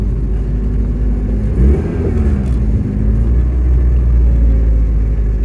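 A Ford Capri turbo engine runs loud and close under boost with a steady droning rumble and a brief rise in revs, heard from inside the car with no talk.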